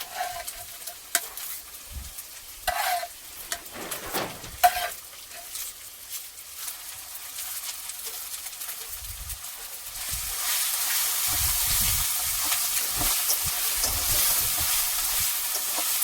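Onion, garlic and ginger frying for a meat gravy, with intermittent stirring clatter and scraping early on, then a louder, steady sizzle building over the final stretch, no one talking.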